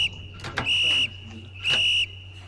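Two long, loud, steady blasts of a whistle signal, each about a third of a second long, in a tram simulator game, separated by a short gap over a low constant hum, with a brief click before the first.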